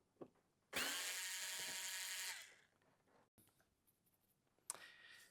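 A power screwdriver backs a screw out of a mixing-console screen housing in one loud, steady whirring burst of about two seconds, close up, followed by quieter handling clicks and a brief second spin-up.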